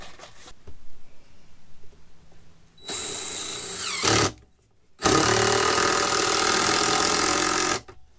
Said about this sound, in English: Go ahead and put a screw in to hold that in down.